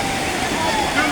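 Sea waves on the beach at Cox's Bazar give a continuous, even roar of churning surf, close and fairly loud, with no separate crash standing out in the short stretch.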